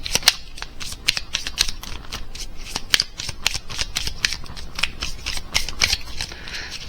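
Crisp rapid riffling and slapping of Lenormand cards being shuffled for a reading, a quick irregular run of sharp papery snaps close to the microphone with no talking.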